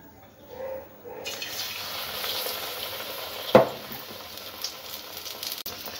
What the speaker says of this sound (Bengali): আমি এবার কড়াইয়ের মধ্যে একটা একটা করে বেগুন দিয়ে দেবো।